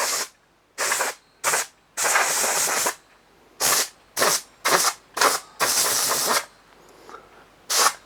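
Canned air duster spraying in a series of sharp, loud hissing bursts of varying length, some short puffs and some longer blasts, separated by brief silences, with no talking.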